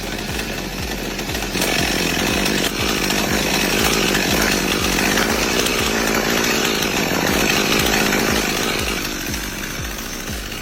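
Chainsaws cut into trees, the engine snarling loud and continuous with a rapid pulsing chatter that rises under load, close and unbroken for several seconds.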